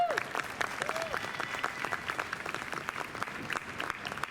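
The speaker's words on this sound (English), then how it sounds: "Let's give them a huge round of applause, please." Audience applause from a large crowd at a student organization general meeting fills the room, steady and dense throughout, with a voice or two rising briefly at the start.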